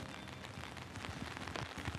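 Rain falls steadily on a New York street, a soft, even hiss of drops that stays faint and distant for the whole stretch, with no voices over it.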